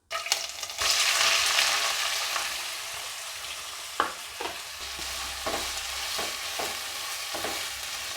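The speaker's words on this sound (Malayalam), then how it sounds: "എന്നിട്ട് നന്നായി ഒന്ന് ഇളക്കി കൊടുക്കുക" Chopped onion fries in a pan with a steady sizzle, broken by several crisp scrapes and taps of a spatula stirring it.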